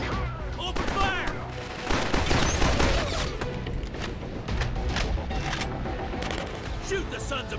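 Sustained automatic gunfire rattles in bursts in the shooter Killzone Mercenary, with loud shots over a dense battle din while voices shout beneath it.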